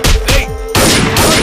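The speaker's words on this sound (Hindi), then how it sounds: "ए राम वो गोली चला रहा" Loud gunfire in an action film scene: a few sharp, close blasts in quick succession with ringing decays and a brief gap between bursts.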